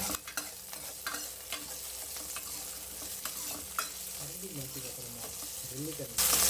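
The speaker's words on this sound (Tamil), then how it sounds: "வெங்காயம் நல்லா வதங்கிட்டே இருக்குது" Onions frying in an earthen clay pot for Tamil fish curry, a steady sizzle broken by repeated scraping strokes of a spoon stirring the pan, with a brief louder hiss at the end.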